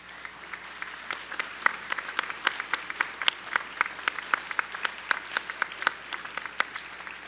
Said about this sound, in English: Graduates, please stand and give all those who helped you reach this moment a round of applause.